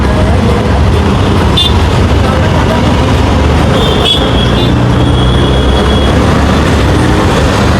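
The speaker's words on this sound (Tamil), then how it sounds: "சும்மா செம்ம டிராஃபிக்கப்பா மெரினா கடற்கரை ரெண்டு கிலோமீட்டர் இருக்குது" Heavy road traffic near Marina Beach in Chennai, a loud, constant roar of engines and tyres with a couple of short horn toots rising above it, close by and unbroken throughout.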